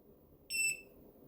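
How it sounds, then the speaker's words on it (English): A single short, high electronic beep sounds as a metal detector pinpointer (SHRXY GP-pointer 2) is switched on, clear and close against near silence. "a quick press of the button turns it on"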